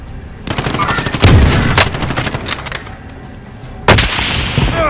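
Automatic rifle fire in Call of Duty Warzone, likely the FR 5.56, rattles in several close, loud bursts, with sharp cracks near the start and again near the end over a busy battlefield background.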